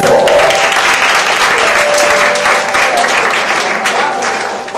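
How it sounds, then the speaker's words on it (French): Loud, sustained applause from an audience at an engagement celebration, dense clapping filling the whole stretch and easing off slightly toward the end. "Applaudissez très très fort"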